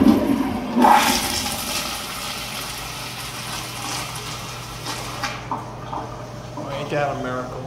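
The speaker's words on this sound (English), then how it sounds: "Flush number two." A circa-2000 Kohler toilet flushing in a Walgreens restroom, a loud rushing gush that settles into a steady draining and refilling roar, with a low hum beneath and some clatter near the end.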